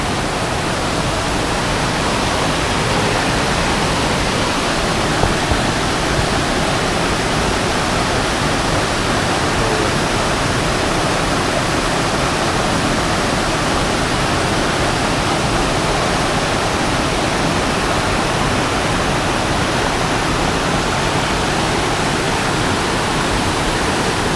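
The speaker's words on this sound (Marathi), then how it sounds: "पर्याला पूर आलेला आहे म्हणजे पाणी वाढलेलं आहे" Loud, constant roar of a flooded stream's rushing water in monsoon rain, a dense, unbroken wash of noise close by with no voices.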